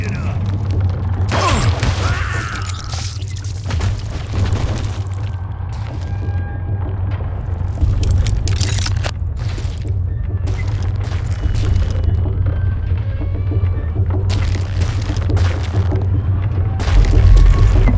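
Video game explosions in Desperados: a deep, sustained rumble with heavy booms and thuds, loud and close, with talking over the noise.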